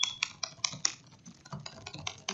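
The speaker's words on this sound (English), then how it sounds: "I'm just typing like this." Fingers tap quickly on a computer keyboard, a close run of crisp, uneven key clicks with brief pauses, with no talking.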